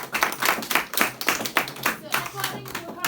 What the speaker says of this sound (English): let's give a round of applause for Vishnu.